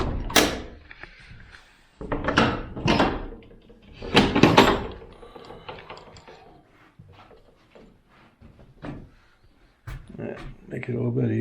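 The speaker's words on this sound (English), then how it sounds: "Open the front doors." Front doors are opened with several loud clunks, scrapes and rattling slides in bursts, followed by quieter handling noises, while a person talks in between.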